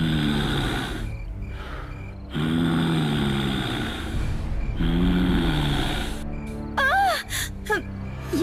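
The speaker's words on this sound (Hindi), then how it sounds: "लेकिन वही सांस लेने की आवाज आने लगी" Eerie, drawn-out breaths for a horror story, in long rasping swells that rise and fall, with sighing, gasping tones and a warbling, ghostly sweep near the end.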